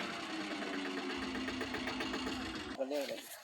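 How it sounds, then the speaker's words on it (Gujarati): A steady, rattling tractor engine chugs for most of the clip while sowing chickpeas in a field, then cuts off abruptly near the end as a voice speaks. "અહીંથી ટ્રેક્ટર ઉતરવાના છે અને આ ઢાળ ચડાવવાનો છે"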